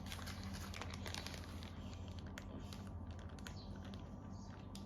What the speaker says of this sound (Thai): ปิดถุงซิป แล้วก็บด บดให้ละเอียดเลยนะคะ